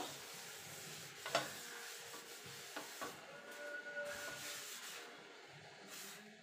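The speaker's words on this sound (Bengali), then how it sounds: "এটা দিয়ে একটা টিস্যু পেপার দিয়ে তেলটাকে আমি পুরো চাটুটায় মাখিয়ে নেব।" Tissue paper rubbed over a hot, lightly oiled griddle pan, soft scraping and rubbing strokes that come in short uneven passes, quiet and close with a faint background hiss.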